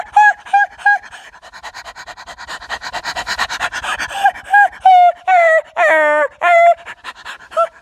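A man imitates a dog, starting with a few short yelping barks, then a run of quick rhythmic panting breaths, followed by a string of loud drawn-out barks and howls, all close and clear.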